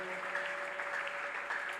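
A congregation claps together at a church service, a steady dense wash of applause with no break, accompanied by a sustained tone underneath.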